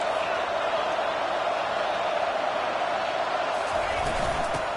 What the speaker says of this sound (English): wow, listen to this crowd noise. This stadium is vibrating